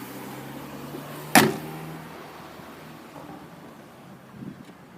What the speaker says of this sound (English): I'll close the boot.